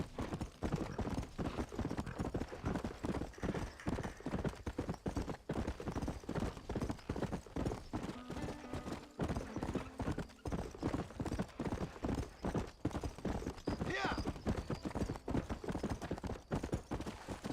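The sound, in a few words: horse galloping in video game Red Dead Redemption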